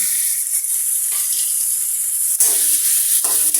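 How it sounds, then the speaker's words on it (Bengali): Panch phoron spices frying in hot oil, browning with a loud, steady bright sizzle that continues throughout, briefly shifting as the pan is disturbed. "ব্রাউন কালার করে ভেজে নেব"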